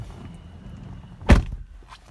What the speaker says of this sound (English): and we'll shut the door